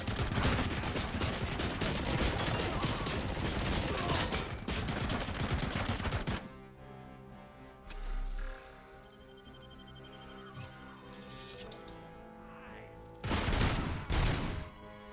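Submachine gun fire in RoboCop: Rogue City, a loud dense burst of rapid shots for the first six seconds, then quieter mechanical game sounds, and another short loud burst near the end.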